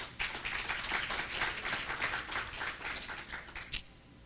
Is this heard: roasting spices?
no